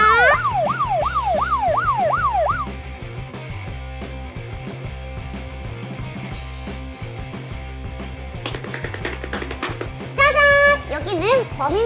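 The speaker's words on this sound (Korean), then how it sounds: "출동! 경찰차가 나갑니다!" A wailing police siren sweeps up and down, fades behind a bouncy music bed, then returns briefly near the end.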